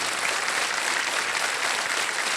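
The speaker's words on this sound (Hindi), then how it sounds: "तालियां बजती रहे निशा जी के लिए" A television quiz show's studio audience applauds a contestant, producing a dense, even wash of clapping throughout.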